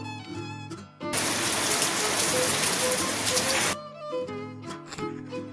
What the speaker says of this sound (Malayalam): മഴയാണല്ലോ ഡി